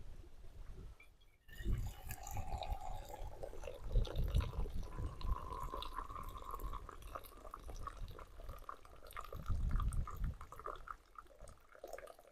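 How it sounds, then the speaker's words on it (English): Tea poured outdoors at a gold-panning spot in northern Nova Scotia, a quiet steady trickle of liquid with a few drips over about twelve seconds, set against a light outdoor background. "Let's pour my tea."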